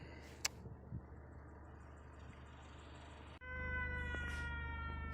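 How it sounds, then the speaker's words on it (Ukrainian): An air raid siren drones steadily, rising abruptly partway through and holding at a constant loud level, with harmonic tones over a background rumble. "Повітряна тривога. Пройдіть в найближче укриття."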